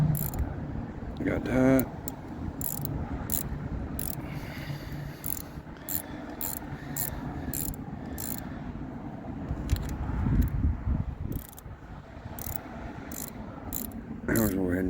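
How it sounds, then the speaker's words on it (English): A ratchet wrench works a suspension bolt, giving sharp rapid clicking bursts over a busy mechanical background, with a short spoken phrase in between. "Flip the ratchet and go the other way."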